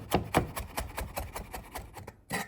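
Rapid rhythmic knife chops on a wooden board as green onion and ginger are finely minced, a steady close series of crisp taps with no talking.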